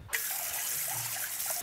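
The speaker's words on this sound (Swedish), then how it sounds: "Jag brukar bara skölja ur kastrullen." Tap water runs into a saucepan at a kitchen sink, a steady close splashing rush of water that starts abruptly and continues without pause, with no talking.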